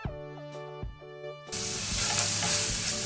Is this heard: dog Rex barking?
no